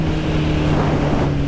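A Kawasaki Z1000 motorcycle on the move gives a steady, loud engine drone buried in heavy wind rush, continuous and unbroken over a short stretch with no speech.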